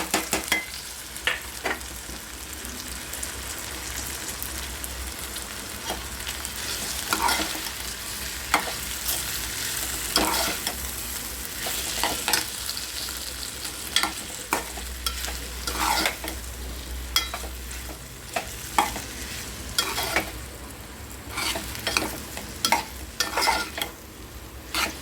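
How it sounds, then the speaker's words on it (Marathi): Okra fries in a pan of roasted red chili and peanut masala while being stirred. Scraping spatula strokes rise and fall over a constant sizzle, close and fairly loud, with no talking. "आता यामध्ये आपल्याला भेंडी टाकायची"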